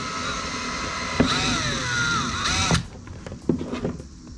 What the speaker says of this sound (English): Drilling the pilot holes for the button lights that we're doing in the front of the boat here.